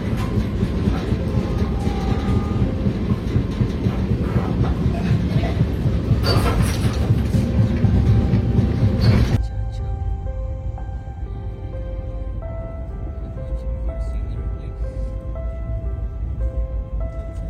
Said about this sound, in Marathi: ही आमची ट्रेन आहे जी आता परत चालली आहे कुठेतरी.